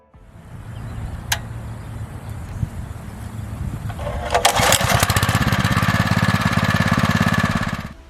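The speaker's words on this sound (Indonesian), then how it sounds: "Dalam pengolahan lahan kering dengan menggunakan alat kultivator" A motor cultivator tilling dry farmland runs with a steady, buzzing engine drone that grows louder and rougher as the tines bite into the soil, close and continuous.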